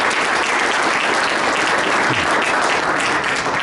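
Applause from an audience at a Rotary club meeting, a steady dense wash of clapping filling the room throughout, close and fairly loud with no talk over it.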